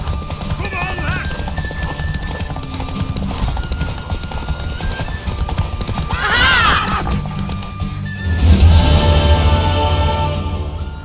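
Rhythmic hoofbeats of a galloping mare with a loud whinny partway through, over game music and scattered voices in The Witcher 3: Wild Hunt, during a horse race.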